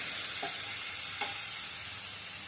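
Food is stirred in a cooking pan over a steady sizzle, with two brief spoon scrapes against the pan, close and without voices.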